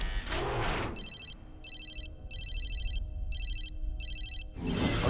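A cell phone rings in repeated bright electronic bursts, about five rings with short gaps between them, loud and close, heard alone in an animated scene.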